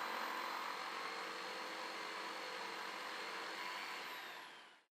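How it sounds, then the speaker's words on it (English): A jigsaw cuts a cutout in a 25mm solid surface worktop with a continuous, loud, high whining buzz that holds steady for several seconds before the motor winds down at the end. "If you use the jigsaw to cut two opposite sides of the cutout"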